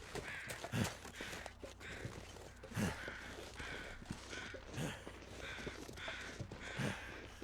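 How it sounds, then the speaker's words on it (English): Crows caw in the snowy wilderness of The Long Dark, several harsh calls spaced out every couple of seconds at a moderate distance, with soft crunching footsteps in between. "Okay, there's crows off to my left."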